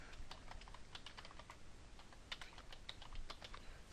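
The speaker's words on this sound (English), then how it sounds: "I would probably type in something like" Fingers type on a computer keyboard, a close, quiet, steady patter of key clicks with no talking.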